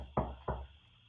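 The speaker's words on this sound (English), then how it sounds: "You knock on the door" Two firm knocks land on a wooden door, close and alone, with a short gap between them and then quiet.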